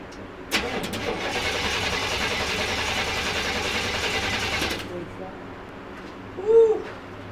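A 1970 Chevrolet C10 truck's engine cranking for several seconds with a steady whirring starter that stops abruptly without firing, followed by a brief faint squeak.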